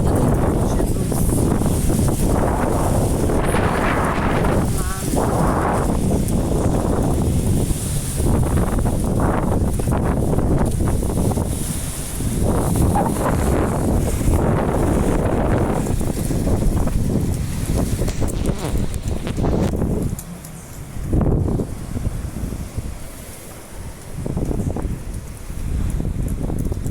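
Strong, gusting wind roars steadily against the microphone outdoors, a loud broadband rush that swells and eases, with a brief lull near the end and voices talking over it.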